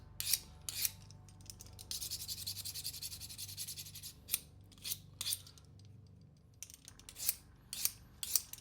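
A multitool blade used for splitting wood is sharpened outdoors in the woods, with a run of close, scraping rasps in short irregular strokes plus one longer steady scrape, fairly quiet.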